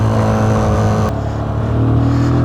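Benelli 180S motorcycle climbing uphill in second gear, a loud close engine drone with a strong harmonic whine that briefly shifts pitch, then pulls steadily onward.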